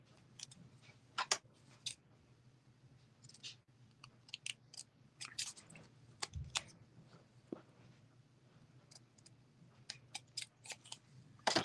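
Sharp scissor snips trimming excess paper on a cardstock craft project, a scattered series of short crisp cuts with quiet pauses between them, close and fairly soft.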